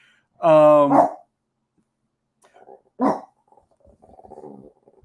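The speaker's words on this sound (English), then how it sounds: "Excuse the dog barking right here" A single loud, close dog bark rings out once, followed by quiet stretches and faint, low voice sounds in the background.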